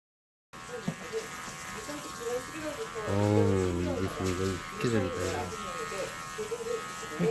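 An electric hair clipper buzzing steadily close by as it cuts hair during a shingling haircut, with a voice speaking over it partway through.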